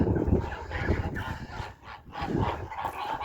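Domestic geese and ganders of unusual form in a village farmyard, heading to the barn, honking and gabbling in irregular overlapping calls at close range.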